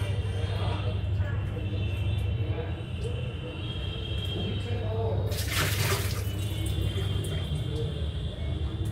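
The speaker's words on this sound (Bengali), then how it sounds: "এইখানে এই এখন মাছটা ধুয়ে নেব।" Tap water runs steadily into a kitchen sink while fish is rinsed for home cooking, a continuous splashing hiss with a brief louder gush midway.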